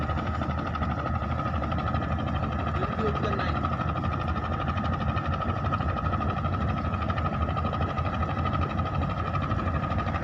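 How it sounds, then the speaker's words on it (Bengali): A Bangladeshi trawler boat passes on a river in the Sundarbans, its engine a loud, unbroken droning hum from start to finish. "এই যে যাচ্ছে বাংলাদেশি ট্রলার এগুলো।"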